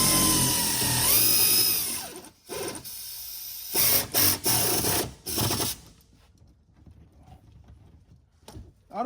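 A power tool on a control arm bolt of a 2007-2018 Chevy/GMC truck fires in several short bursts, a whirring ratchet-like rattle near and moderately loud, separated by quiet gaps.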